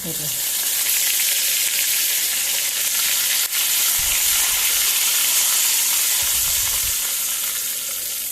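Curry leaves frying in hot oil with mustard seeds and a pinch of asafoetida for a Goan cowpea curry: a loud, continuous, close hissing sizzle with a couple of brief low bumps partway through.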